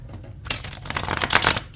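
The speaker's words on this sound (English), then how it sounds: "And so let's give it a good shuffle." A deck of cards riffles in a quick fluttering burst, the crisp flapping rising and ending within a second or two.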